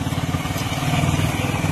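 A motorcycle engine runs steadily at close range on a drizzly day, a continuous low throbbing drone with a fast, even pulse and no voices over it.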